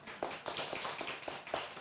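Brief applause from a seminar audience, a scattered patter of claps, moderately quiet and close, with no talk over it.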